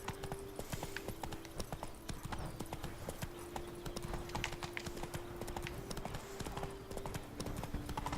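A horse's hooves clip-clop in The Witcher 3 video game, a brisk, even hoofbeat rhythm that runs throughout over a soft steady tone.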